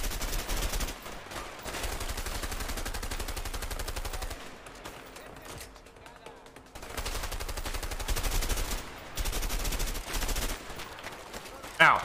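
Sustained automatic gunfire from the video game A Way Out, dense rapid bursts that break off briefly mid-stretch and then resume at full intensity, with faint voices underneath.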